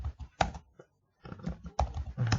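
Fingers type on a computer keyboard during an Excel spreadsheet tutorial, a few quiet, close key clicks in short irregular bursts with a brief pause in the middle.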